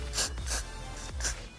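Four short, close hissing bursts from an aerosol can of glue spray, evenly spaced with brief pauses between them.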